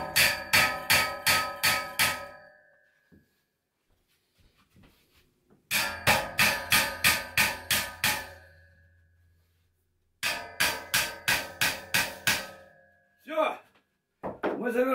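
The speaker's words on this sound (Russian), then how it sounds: "Беру молоток и начинаю вот так стучать." A hammer strikes a workbench in three loud, rapid bursts of about six sharp blows each, separated by quiet pauses, with a brief voice near the end.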